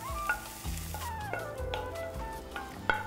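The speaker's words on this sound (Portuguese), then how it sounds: "Fritamos a cebola." Onion fries in a pan with a steady close sizzle, broken by several scraping stirs and clinks of a utensil against the pan, and no talking.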